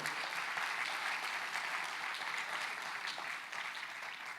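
Steady applause from a church congregation, dense and continuous at an even level throughout, with no voices standing out.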